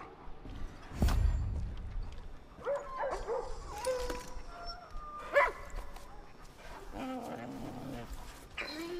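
Dog barks and whimpers in the video game Far Cry New Dawn, a sharp bark near the start followed by scattered whines and yips over game ambience, fairly close and moderately loud.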